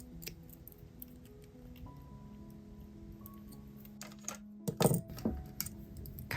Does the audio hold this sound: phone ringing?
no